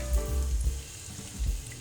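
Onions sizzle in half a cup of hot oil in a pan for egg gravy, a close, steady crackling hiss with low bubbling bursts, heard alone without talk.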